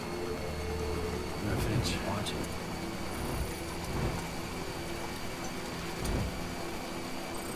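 Steady rain pours continuously in Death Stranding, with a broad hiss, a few louder crackling bursts rising briefly above the wash, no voices.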